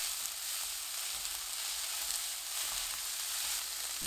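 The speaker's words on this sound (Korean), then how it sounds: "팬에 올리브유 1큰술, 양배추 넣고 센 불로 2분 볶습니다" Cabbage stir-fries over high heat in a pan with a tablespoon of olive oil, giving a steady, close hiss of sizzling that runs evenly throughout with no voices.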